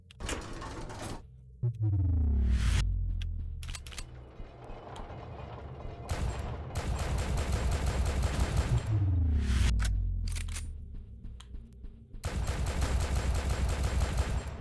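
Pistol gunfire in a video game, coming in loud repeated bursts of sharp shots separated by brief gaps, alongside mechanical clanks and rising whooshing sweeps, with no voices.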